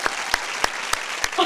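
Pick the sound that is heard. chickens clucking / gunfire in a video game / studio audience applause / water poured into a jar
studio audience applause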